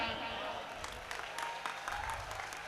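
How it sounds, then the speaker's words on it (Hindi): Audience applause at a Hindi comic poetry gathering, a fairly faint, steady clapping from a crowd with a few sharper claps standing out. "और तालियां तो इस बात पे बजा देना"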